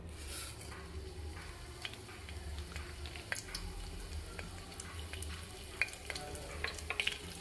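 Mustard, fennel and ajwain seeds fry in oil as a faint, continuous hiss dotted with scattered small pops and crackles, growing a little busier toward the end.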